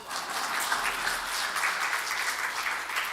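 A church congregation at an evening Sunday service claps for an elder's parents, a dense, even round of applause sustained from start to finish, moderately distant and without speech.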